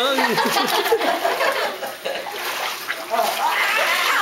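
A child ducks their head underwater while swimming with family, making splashy water noise that runs continuously under excited voices and chuckling nearby.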